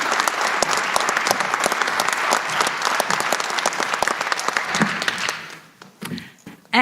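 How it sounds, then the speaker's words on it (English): A debate audience applauds, a dense, loud burst of clapping that holds steady for several seconds before thinning out to a few scattered claps near the end. "Another round of applause."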